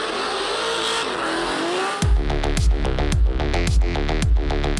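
Formula Drift cars built for drifting on the Long Beach course, a loud engine wail giving way after two seconds to rapid bursts of tire squeal and skidding over roaring engines, close and continuous with no voices.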